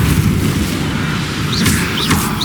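Depulso force spell cast in Hogwarts Legacy, a dense rumbling magical burst with whooshing, swirling rises layered over continuous low booming game noise.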